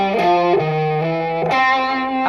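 A distorted electric guitar plays a short bluesy riff of a few sustained notes, loud and close with no talking.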